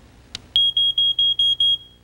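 Household smoke detector, an 85-decibel unit, tested by pressing its button: a click, then six loud, piercing, evenly spaced beeps close by, with no talking.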